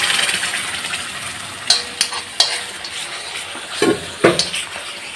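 Ground paneer masala paste is stirred in a hot pan with oil, giving a steady low sizzle broken by several sharp scraping clinks of the spoon against the pan.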